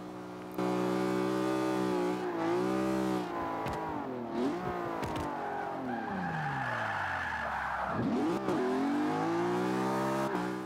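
Engine howl and tire squeal from a Lamborghini Aventador or BMW M3 drift build sliding in Forza 5, a loud continuous rev that rises and falls with long screeching skids throughout.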